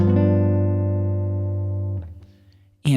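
A jazz guitar plays a sustained chord in a Silent Night chord melody, ringing clearly and slowly decaying before a second softer chord, ending with a brief voice at the close.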